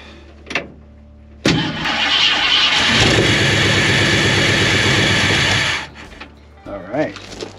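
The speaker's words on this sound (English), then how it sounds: "see if the truck turns over now" 1950 Ford F1 truck engine starting after an ignition switch and fuel pump repair: a brief crank, then the engine catches and runs loudly and steadily for several seconds before cutting off, with a voice briefly before and after.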